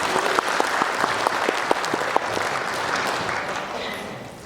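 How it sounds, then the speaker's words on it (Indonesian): An audience of neighbourhood leaders at a municipal training session breaks into loud, sustained applause, dense clapping that holds steady before slowly tapering off toward the end. "Tepuk tangan untuk kita semua."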